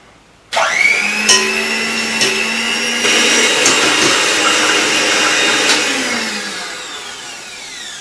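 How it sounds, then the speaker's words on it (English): A blender whirs up kulfi mixture with dry roasted nuts, starting abruptly and holding a loud, steady motor whine for several seconds before easing off toward the end. "So let's blend it."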